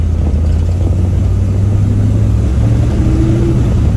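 A 1965 Chevy Nova wagon with a Holley carburetor and Edelbrock intake pulls under load, a loud, steady low engine rumble with a slowly rising tone heard from inside the car, continuous with no talk.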